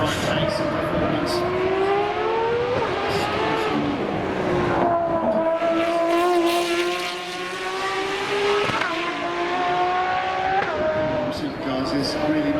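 Supercars, including a group of Ferraris, race past at the Goodwood Festival of Speed, engines wailing and shifting pitch up and down in a steady roar, with a commentator talking over them.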